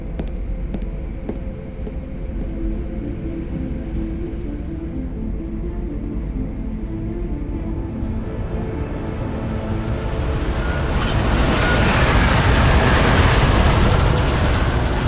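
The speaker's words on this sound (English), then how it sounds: "Just getting off the train now." A train pulls into a station in the video game Deus Ex: Mankind Divided: a steady low rumble that swells louder toward the end as the train arrives, with no voices over it.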